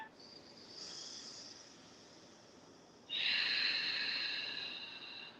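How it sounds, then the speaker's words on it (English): Slow ujjayi breathing during a yoga session, a soft airy inhale followed by a louder, longer, throaty exhale, close and alone with no talk. "Ujjayi breathing."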